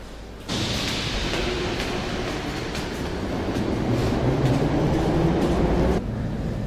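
A metro train at a Dnipro metro station rumbles loud and close with a steady roar and faint clattering of wheels on rails, sustained for several seconds before easing slightly at the end.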